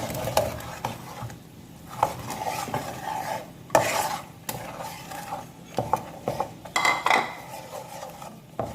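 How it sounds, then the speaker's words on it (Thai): Beef meatballs stir-fried with red curry paste in a pan: a spatula scrapes and clinks against the metal in irregular strokes over a soft, close sizzle, with no talking. "แล้วเราก็จะใส่ ตัว ลูกชิ้นนะครับ เข้าไปนะครับผัดนะครับ"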